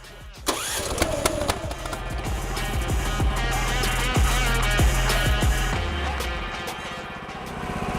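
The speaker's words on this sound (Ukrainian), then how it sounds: "Запускаємо наш тренчея копач в роботу." A MAST Bautechnik MT-TR-100PRO compact trencher's engine cranks and catches, then settles into a loud, steady mechanical running drone close by, with no talking.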